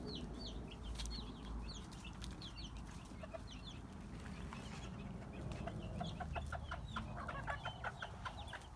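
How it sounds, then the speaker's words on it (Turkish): Sivas ornamental chickens cluck and chirp repeatedly in a busy coop, with a steady low rumble of background noise underneath. "Sivas süs tavukları var"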